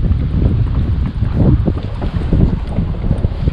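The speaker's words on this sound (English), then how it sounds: "the wind's moving around me" Wind gusting around a kayak on Lake Arthur, Pennsylvania, a loud buffeting rush of microphone wind noise with surging low rumbles, close and continuous with no talking.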